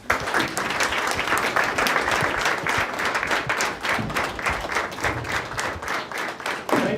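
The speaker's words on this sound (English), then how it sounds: "Let's all clap for our guests." An audience claps steadily for arriving guests at a school play, a dense, close, continuous round of applause that holds for several seconds, with a brief swell near the end.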